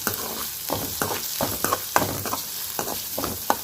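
Curry leaves, lentils and chopped onion sautéing in a pan for cabbage poriyal: a steady frying sizzle with repeated scraping stirs of the spoon at a regular rhythm, close and fairly loud, no voices.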